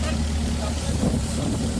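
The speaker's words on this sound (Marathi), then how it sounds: "तर मित्रांनो, आता आपली बोट निघालेली आहे घरची." A boat engine drones steadily and close by as the boat heads home from Khanderi, a low continuous rumble mixed with rushing wind and water.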